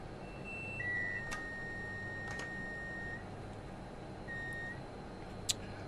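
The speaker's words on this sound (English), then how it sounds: "Alarms going off." Train cab alarm in Train Sim World 6 on the West Coast Main Line from Crewe to Carlisle, sounding as thin, steady electronic tones, one long and a few shorter, with clicks over a constant rumbling hum.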